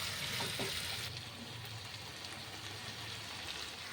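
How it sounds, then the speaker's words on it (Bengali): Water being poured into a pot of browned chicken curry, a steady soft rushing splash that runs on unbroken throughout at low volume. "এই সময় আমি জল দিয়ে দিচ্ছি পরিমাণ মতো"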